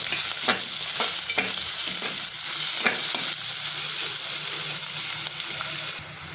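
Onion sautés in a hot pan for upma, a loud sizzle broken by regular scraping stirs that sweep through it, and the frying eases slightly near the end.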